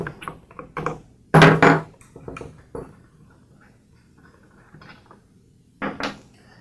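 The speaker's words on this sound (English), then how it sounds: "So I'll start by removing the spark plug." Metallic clicks, ratcheting turns and clunks as a spark plug is unscrewed from a two-stroke engine, coming in short separate bursts with quiet gaps between, close and fairly loud.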